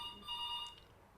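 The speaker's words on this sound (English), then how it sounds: "Oh, the telephone. Somebody's calling." A telephone rings once, a bright electronic trill heard clearly in a quiet room, brief and at moderate distance with no talk over it.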